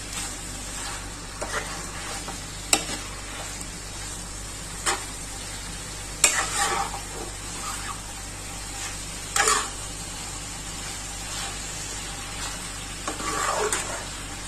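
Chicken pieces frying in a pan for chicken chilli, a steady low sizzle with occasional sharper crackles and stirring clatter, heard close up with no talk.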